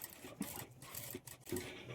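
A sewing machine stitches a scalloped blouse sleeve, pausing to turn at each corner, in faint short bursts of rapid mechanical whirring separated by brief gaps.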